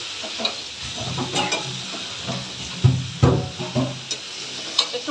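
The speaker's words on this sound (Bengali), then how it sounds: "এবার কচুগুলো সিদ্ধ করে রাখা ছিল এগুলো দিয়ে দিলাম এবার আরও দু তিন মিনিট একটু এইভাবে কষাতে থাকবো" Boiled taro pieces fried and stirred in a pan with potatoes, giving a continuous close sizzle with irregular scraping stirs and a few louder knocks of the spatula against the pan.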